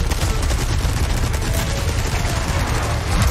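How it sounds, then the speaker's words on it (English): Dense, continuous gunfire from the video game Resident Evil 4 Remake during a boss fight, loud and rapid with overlapping shots and no pauses, filling the whole moment without any talk. "Leon, shoot your gun"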